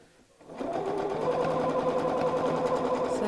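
Sewing machine stitching a craft mat bag runs steadily up close with a fast, even whir, starting after a brief quiet moment and continuing without pause.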